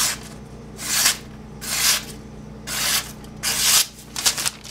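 Four even strokes of a freshly sharpened Busse Rat Trap knife push-cutting through paper, each a soft, airy hiss lasting about half a second, close and fairly loud with brief pauses between.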